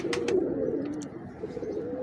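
A Mairon wale khalis breed pigeon coos close by, a low rolling coo sustained for about a second and trailing into softer murmurs, with faint clicks before it.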